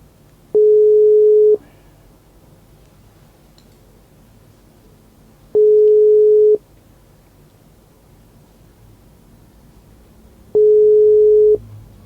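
A telephone ringback tone plays while a call is being placed, giving three clear one-second beeps spaced about five seconds apart over a quiet line.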